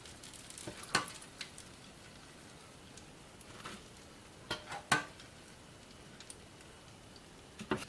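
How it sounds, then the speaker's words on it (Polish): Polish pączki doughnuts frying in hot oil for a Fat Thursday recipe, a soft steady sizzle with sparse crackles and a few sharper pops and clicks, fairly quiet and close, with no talk. "A więc już się smaży 5 minut, można 6-6 minutka."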